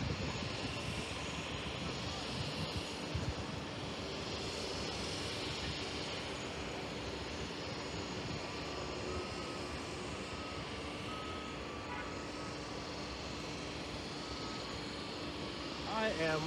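Airliner jet engines at JFK Airport: a continuous, broad roar that stays steady throughout, with faint intermittent higher tones and a slight swell near the end.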